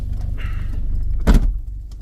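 A short shifter in a 1990 Toyota Celica GT-S is moved once, giving a single solid clunk over a low, steady cabin hum.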